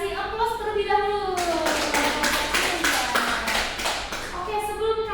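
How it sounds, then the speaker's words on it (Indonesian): Classroom applause for a student's correct answer, a burst of close, brisk clapping from several pupils lasting a few seconds, with a teacher's and children's voices heard before and after it. "Ya, berarti kita kasih aplaus terlebih dahulu."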